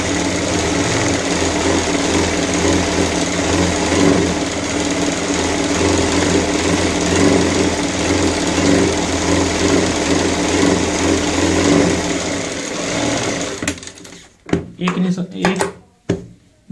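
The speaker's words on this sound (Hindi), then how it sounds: "एक निशान से हमने सिलाई की यहाँ पे शुरुआत की है" A sewing machine runs in one long continuous buzzing whirr while stitching fabric for a cushion on a stool made from a waste bucket, then stops and gives way to a few handling knocks near the end.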